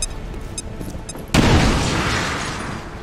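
A grenade explosion in XCOM 2 bursts suddenly after quiet game ambience and short beeps, a loud, close boom whose rumbling debris tail slowly fades.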